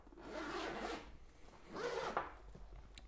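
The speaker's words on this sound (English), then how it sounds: "when we put these zippers together, we can put a lock through them to close the bag." Zippers on a Bric's Life Holdall carry-on bag, two close, fairly quiet zipping strokes, each about a second long, with a small click between them.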